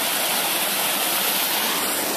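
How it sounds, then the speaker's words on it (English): A waterfall beside a running trail, a steady, loud broadband rush of falling water that fills the whole moment without a break. "Look at this waterfall."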